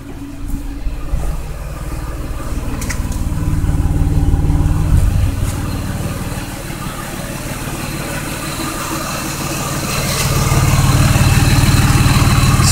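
A Mazda6 engine idles steadily at close range, a rough low rumble with a ticking, puffing edge from an exhaust leak at a missing gasket, growing slightly louder near the end.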